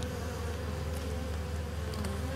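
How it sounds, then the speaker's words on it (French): Honeybee swarm buzzing steadily inside a hive holding brood frames and a laying queen, a close, continuous drone with no talk over it. "Donc cet essaim est bien parti aussi, il y a bien une reine dedans"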